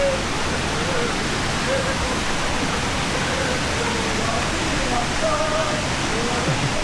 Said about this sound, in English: There's the waterfall that I just saw down there